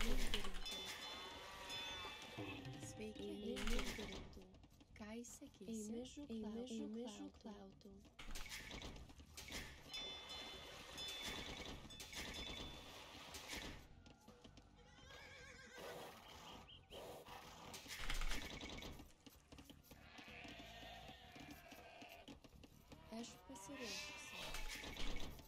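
Sheep-like bleats and horse whinnies from the game Age of Empires, repeating over a busy mix of music and effects, with voices speaking at times.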